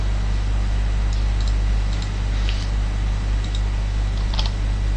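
Scattered clicks on a QWERTY computer keyboard tap out in small irregular bursts over a steady low electrical hum, close and fairly quiet.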